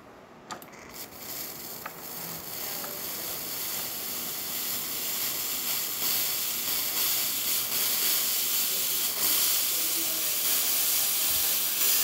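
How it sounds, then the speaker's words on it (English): A DeLonghi La Specialista espresso machine's steam wand hisses steadily, a close, continuous rushing steam sound that builds slightly over about twelve seconds with no voices. "then we're going to do steaming just to make sure"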